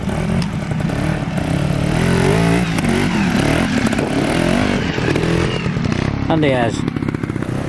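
A trials motorcycle rides through a section at a trials event, its engine buzzing and revving in short bursts as it picks a line, fairly close, while a commentator talks over it.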